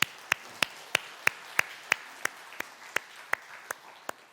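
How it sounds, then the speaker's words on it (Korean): Slow, evenly spaced claps, about a dozen sharp single claps in steady rhythm, from a church congregation during a Sunday worship service; sparse and fairly close rather than a full crowd ovation. "그렇게 인도하신 하나님 앞에 영광의 박수 올려드리겠습니다."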